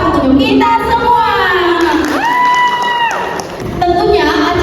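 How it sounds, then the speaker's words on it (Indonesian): Audience in a theatre applauds and cheers after a women's monologue performance, with a lively crowd noise and whoops throughout, while a tonal sound glides through the middle. "Beri tepuk tangan yang luar biasa untuk kita semua."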